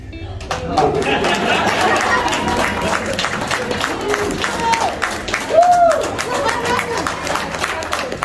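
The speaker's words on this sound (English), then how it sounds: "Now you do have to cheer for this one." A convention crowd at a costume contest claps and cheers with a steady, close wash of applause and chatter, while a host's voice talks over the top and a few whoops rise partway through.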